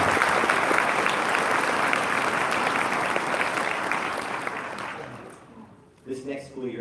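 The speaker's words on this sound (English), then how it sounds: "Another round of applause," Graduation-ceremony audience applauding Francis, a broad steady wash of clapping from a crowd that gradually thins and fades out, followed by a voice speaking at the end.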